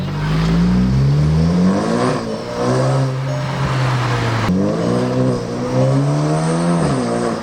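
From inside a Skoda Octavia with a turbo-back exhaust and front windows down, the engine drones loudly and revs up repeatedly, its pitch sweeping upward through several gear changes over steady road and wind noise.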